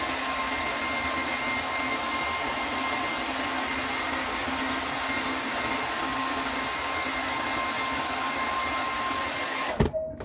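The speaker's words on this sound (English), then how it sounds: "So I'm going to blow dry under here just a little bit." A hair dryer blows steadily on a beard during a trim, a constant close airy whir with a faint whine, running unbroken for about ten seconds before cutting off abruptly.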